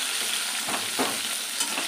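Potatoes sizzle steadily in a pan over an even hiss of frying, with a few soft stirring scrapes through it.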